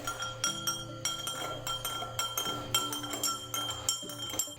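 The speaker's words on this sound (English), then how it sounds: "The next step is to fill a glass of water, add a few drops of food coloring, and give it a good stir." A spoon stirs water tinted with food coloring in a glass, giving quick repeated clinks and chinks against the glass in an irregular rhythm, close and moderately loud, with no voices.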